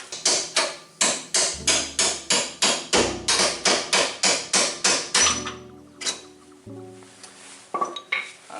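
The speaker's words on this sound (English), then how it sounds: "Even better than a screwdriver, I have an actual punch." A hammer strikes a steel punch to drive suspension bolts out of a third-generation Toyota 4Runner during a Panhard correction kit install, a fast run of about twenty sharp, evenly spaced ringing metal blows, then a few scattered clinks and taps.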